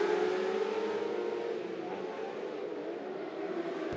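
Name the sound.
600R mini sprint cars racing in a heat race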